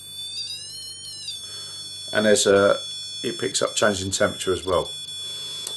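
A steady high-pitched electronic alarm tone from an EMF meter sounds continuously while someone talks over it.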